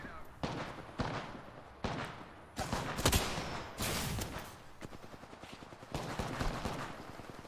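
Gunfire in the video game Apex Legends, bursts of rapid automatic shots in several volleys, loud and close, with a voice talking over the fighting.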